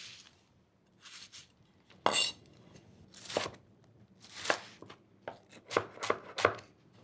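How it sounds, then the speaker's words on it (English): A kitchen knife slices crosswise through an onion on a cutting board, producing a series of separate crisp chops in irregular rhythm, close and fairly quiet. "And then cutting crosswise from stem to root"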